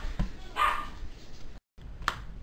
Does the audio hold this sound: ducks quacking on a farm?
no